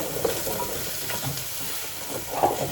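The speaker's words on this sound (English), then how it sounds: "Okay, I'm gonna put the carrots." Carrots and garlic sizzle and fry in a pan for carrot soup, a steady close crackle with a few stirring scrapes and brief spatters, no voices.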